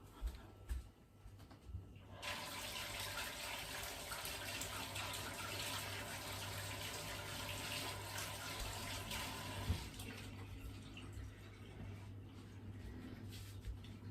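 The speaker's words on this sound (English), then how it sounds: "I'm going to wash my hands again" Water from a kitchen tap runs steadily while hands are washed during a roast dinner cooked in a halogen oven, a continuous close gushing hiss after a brief opening clatter, with no talk over it.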